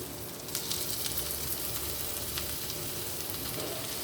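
Squeezed amaranth leaves drop into a pan of frying onions, setting off a steady close sizzle and crackle that carries on evenly, with faint stirring underneath.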